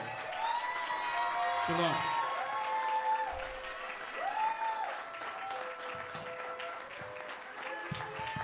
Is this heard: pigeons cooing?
no